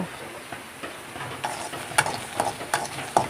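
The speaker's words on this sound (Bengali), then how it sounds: "এবারে চুলায় একটা কড়াই বসিয়ে এগুলো ভালো করে টেলে নেব" Garlic, onion and green chilies roasting in a wok, a soft continuous sizzle broken by several sharp scraping stirs and metallic clinks of a spatula, close and unaccompanied by talk.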